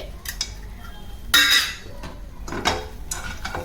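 Peanuts dry roasted in a pan without oil, with scattered rattling and scraping clinks as they are stirred, one louder clattering burst in the middle.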